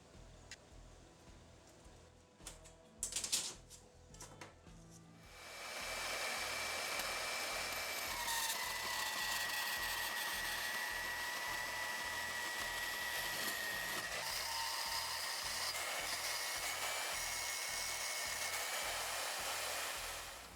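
A steady, loud whining roar of a saw or grinder cutting 4-foot bars of 1084 steel into pieces. It starts abruptly after a few seconds of quiet clatter and then runs continuously, close by.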